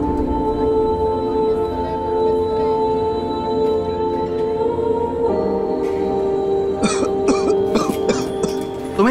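A woman coughs in a few sharp, harsh bursts near the end, over a steady, droning musical background that fills the whole scene.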